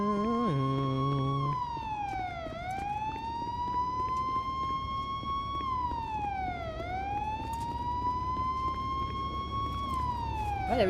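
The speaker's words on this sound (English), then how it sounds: "I am turning off the sirens." A loud police car siren in a roleplay video game wails continuously, its pitch sweeping down and back up in slow cycles, close by with a low engine rumble beneath.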